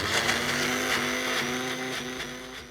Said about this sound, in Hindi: इसमें हम डालेंगे मेयोनीज। इसे अब हम ग्राइंड करेंगे